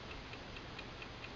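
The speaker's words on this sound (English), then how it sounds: "What is that mysterious ticking noise?" A clock ticking in a quiet room, faint and evenly spaced with about six light, crisp ticks over a soft hiss and no other sounds.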